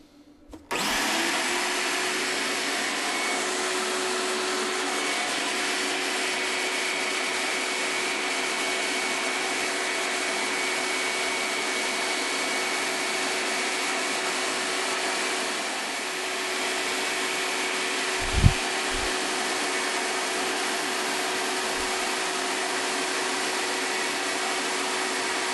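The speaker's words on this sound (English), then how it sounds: "Turning on the vacuum." A vacuum cleaner switches on abruptly and runs through a debris separator sucking up aspen wood shavings and sawdust, a loud steady whine holding evenly, with a brief knock partway through.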